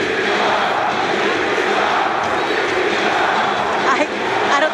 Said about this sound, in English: I don't think we've ever heard a crowd like this before, Shane.